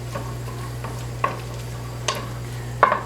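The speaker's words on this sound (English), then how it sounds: "And then stir that up." A garlic lemon sauce with chopped parsley is stirred in a pan over a flame, with a few sharp scraping clicks of the utensil over a soft sizzle and a low steady hum.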